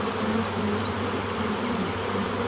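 Honey bees at an open hive hum in a loud, continuous, steady drone.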